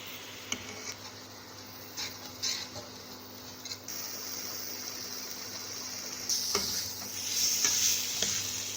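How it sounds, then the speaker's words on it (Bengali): Spice masala is stir-fried with a little water in a pan: a soft, continuous sizzle broken by light scrapes and taps of the spatula, the sizzle growing brighter and louder in the last few seconds. "দিয়ে নিয়ে আমি 2 মিনিট মতন ভালো করে এগুলোকে কষিয়ে নেব"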